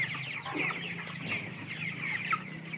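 Broiler chickens cluck continuously at close range while being fed, a busy flock chattering over a steady low hum.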